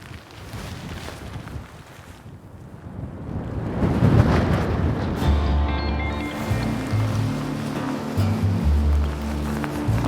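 Strong wind buffets outdoors in a deer-hunting setting, building from a rustling roar into heavy gusts with low rumbling microphone buffeting and a faint tonal drone.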